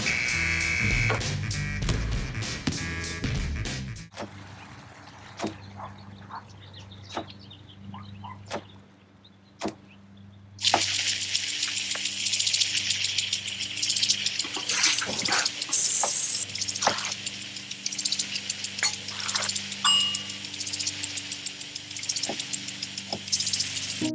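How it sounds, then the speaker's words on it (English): A kitchen sink tap runs for washing, with broadband water rush and splashing that turns steady and louder partway through, accompanied by scattered clicks and drips and a low background hum. "Clean kitchen surfaces, utensils, and hands with soapy water."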